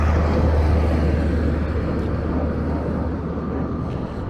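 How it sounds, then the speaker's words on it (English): Steady, broad low roar of planes taking off near the Las Vegas airport, heard continuously in the distance as the dominant sound along an outdoor street, with no clear voices. "So you definitely hear some planes going on in the background."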